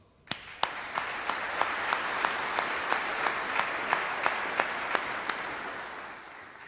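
Crowd applause at a military change of command ceremony, honoring the U.S. Army Band: a sustained wash of clapping from a large audience with sharp, evenly spaced rhythmic claps rising over it, steady and moderately loud throughout.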